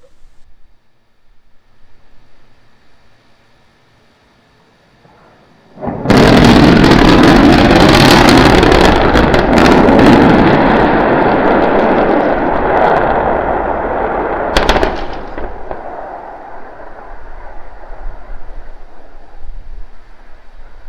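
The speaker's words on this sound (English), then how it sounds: "We're preparing to restart 2 engines, flip the vehicle vertical, then transition to 1 engine for the landing burn." Starship SN9 Raptor rocket engines relighting during the landing flip, a sudden loud roaring rumble that bursts in after quiet and holds, with a sharp crackle partway, then fades to a lower roar.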